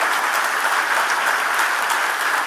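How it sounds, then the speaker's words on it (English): Steady, full applause from a conference audience after a keynote address at a print industry summit, dense and even clapping throughout with no voices standing out. "Big round of applause, please."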